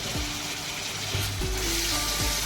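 Chopped tomato and onion sauté in a hot pan for an egg ghotala dish, giving a steady close sizzle with short scraping stirs throughout and no talking.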